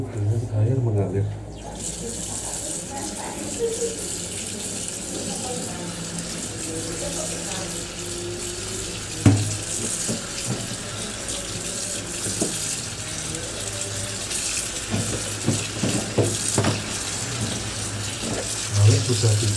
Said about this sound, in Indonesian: Dicuci dulu dengan air mengalir.